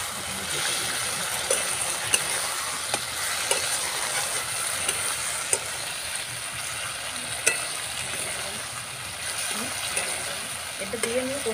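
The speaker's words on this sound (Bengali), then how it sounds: "নাড়িয়ে নিয়ে কষিয়ে নিই একটুখানি দিয়ে দেবো।" Soybean chilli being stirred and fried in a pan with tomato sauce, a steady broadband sizzle with scattered scraping clicks of a spoon against the pan throughout.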